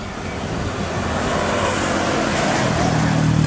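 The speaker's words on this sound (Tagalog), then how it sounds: "Ito, mga sasakyan papuntang Kabikulan ito, mga katambay." Vehicles passing on Maharlika Highway in Pagbilao, Quezon Province, during heavy traffic, a continuous broadband road rumble that swells slightly louder toward the end, with no voices.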